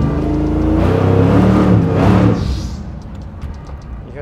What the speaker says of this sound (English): the belt is slipping